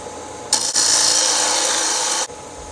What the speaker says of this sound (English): Again, you start with your parting tool.